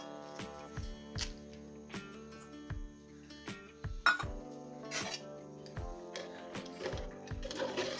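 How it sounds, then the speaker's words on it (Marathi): Pasta being stirred with pasta masala in a metal pan, a series of ringing metallic clinks and knocks of a utensil against the pan, close and irregular. "चांगलं मिक्स करूया."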